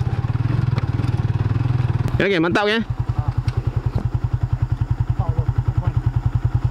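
A WMoto Extreme 150i scooter engine runs loud and close with a steady rapid pulsing idle, briefly revving mid-clip while someone speaks over it.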